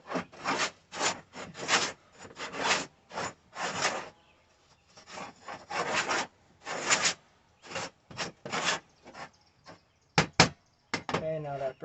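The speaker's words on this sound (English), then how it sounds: "then I'll dip my steel wool in that solvent one last time" Steel wool dipped in solvent scrubs a downrigger swivel base in quick bursts of raspy rubbing strokes, close and loud, with short pauses between sets.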